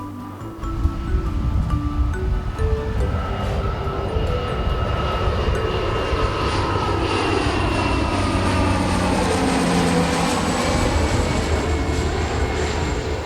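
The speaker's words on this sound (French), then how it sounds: "regardez, il y a un avion qui passe" A fixed-wing airplane passes overhead outdoors, its broad engine roar steady and loud throughout with a slowly shifting drone as it crosses, no voices present.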